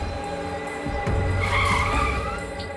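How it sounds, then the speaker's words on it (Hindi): A car brakes hard to a stop in a TV crime-drama scene, its tyres skidding and squealing loudly for a couple of seconds over the engine noise. "गाड़ी रोक।"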